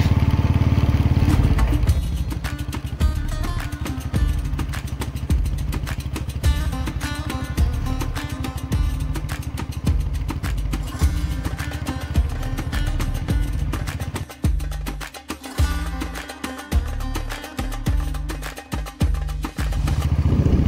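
Motorbike ride on a road toward Mukteshwar in the Himalayan hills, with a steady loud engine drone and wind rumble throughout, a brief dip in the middle, no talking.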